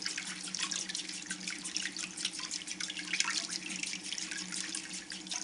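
Loquat leaves being washed under a running tap in a sink, a steady splashing stream with small drips and rubbing, close and fairly quiet, with no talk.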